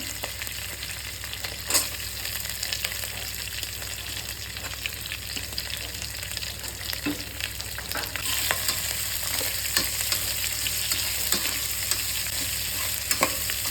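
Green chillies and onions fry in hot oil for tomato rice, a steady soft sizzle with occasional sharp stirring scrapes and clicks from a utensil in the pan.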